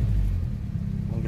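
A 2001 Honda Accord VVTi engine turning over and catching, giving a deep low rumble close by that holds steady and then rises slightly at the end.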